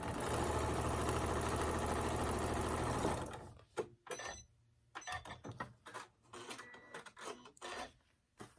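A sewing machine stitches a tumbler baby quilt in one loud continuous whirring run that stops abruptly after about three seconds, followed by scattered handling clicks and rustles of fabric.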